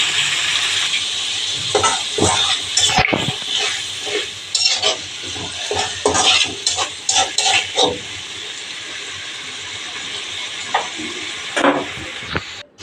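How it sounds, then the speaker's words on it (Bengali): Potatoes fry in hot oil with spices while being stirred, a steady sizzling hiss broken by repeated scraping and clinking strokes of the spatula against the pan. "সব মশলা দিয়ে এখন ভালো করে আলুটা কষিয়ে নেবো।"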